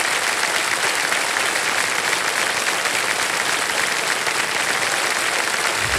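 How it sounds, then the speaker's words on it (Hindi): Studio audience on an Indian TV quiz show claps loudly and steadily for several seconds, a dense, even wash of hands close up with no one speaking over it. "तालियां बज जाए एक बार फिर।"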